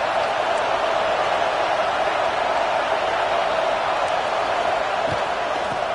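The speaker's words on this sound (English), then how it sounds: "This crowd trying to make life miserable for this offense." Loud, dense roar of a football stadium crowd during an Aggies college game, a steady wall of noise sustained throughout with no pauses, close and enveloping.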